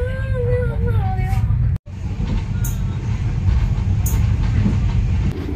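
Steady low rumble and clatter inside a moving Thai train bound for Pasak Jolasid Dam, with voices talking over it at the start and a short cut near the two-second mark.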